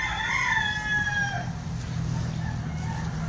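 A rooster crows near a rural pandan-picking spot, one long rising-then-falling call filling the first second and a half, followed by a faint second call over steady low background rumble.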